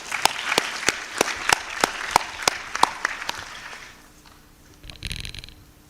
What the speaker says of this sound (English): So a big round of applause to everyone for this session.